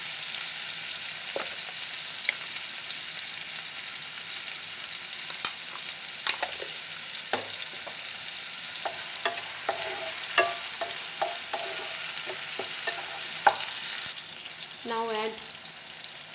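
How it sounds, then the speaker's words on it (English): Red lentil masala fries in a pan for a Bengali masoor dal bawra curry, salt going in: a steady close sizzle with repeated scraping stirs and utensil knocks, a brief voice over the frying. "Add little salt also."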